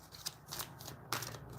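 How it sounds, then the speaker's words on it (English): A deck of cards being shuffled by hand, soft riffling bursts that come in several quick rounds, close and faint, with no voices. "I'm gonna shuffle 2 more times."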